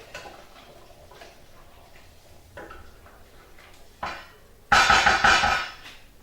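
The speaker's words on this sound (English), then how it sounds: "A little stir." A spoon scrapes and knocks inside a pot of beef kofta curry with meatballs, peas and tomatoes, a few soft taps building to a louder grinding stir near the end, close and without talk.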